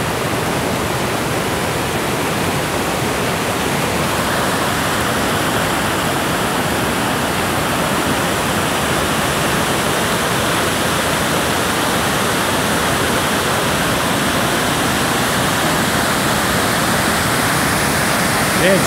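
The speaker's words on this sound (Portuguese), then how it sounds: "se o vídeo ficar um pouco barulhento aí, é por causa do barulho da cachoeira" The Cachoeira da Chave waterfall in Votorantim roars with a loud, dense, unbroken rush of falling water, steady and close for the whole stretch.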